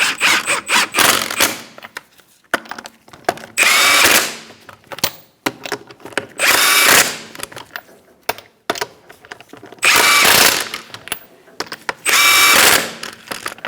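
A power tool tightens the wheel lug nuts on a 2004–2009 Mazda 3, giving four loud, close bursts of whirring and rattling. Quieter clicks and handling sounds come between the bursts.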